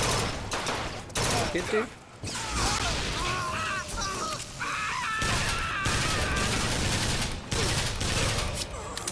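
A Tommy gun fires in the BioShock Infinite: Burial at Sea video game, with dense bursts of rapid automatic shots and crashing impacts through most of the stretch. A voice speaks briefly over the gunfire.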